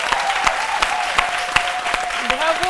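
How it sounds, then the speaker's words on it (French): A studio audience on a French-language television talk show claps in a brisk, fairly quiet burst, with individual hand claps standing out against the broader applause. "faisons souffler ici un vent d'applaudissements"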